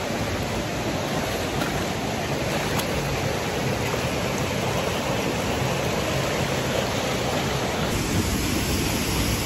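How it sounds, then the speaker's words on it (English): Jungle waterfall in Turrialba, Costa Rica, roaring as a steady, dense wash of falling water, loud and close throughout with no break or voices. "So I reached one of the waterfalls that I wanted to go to."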